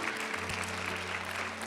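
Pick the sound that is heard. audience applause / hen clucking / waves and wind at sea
audience applause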